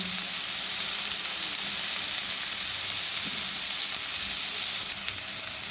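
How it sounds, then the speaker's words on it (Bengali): Ridge gourd and grated coconut frying in a hot pan, a steady dense sizzle running throughout with occasional scraping from being stirred, close and fairly loud with no voices. "এবার নারকেল দিয়ে ভালো করে নেড়ে নেব।"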